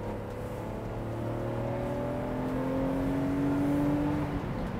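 BMW Z4 M Roadster engine revs up and down through heel-toe downshifts, a steady close metallic drone with pitch sweeping upward and swelling, no talking.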